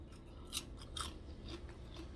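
Someone chewing crunchy fried food, a few faint crisp bites and crunches close up over a quiet background, with no talking.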